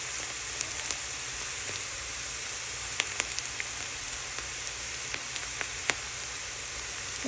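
Crushed garlic and ginger sizzle steadily in a hot pan of oil, a continuous close frying hiss with a few small pops and crackles and no talking.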